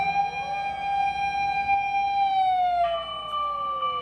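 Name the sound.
toy fire truck siren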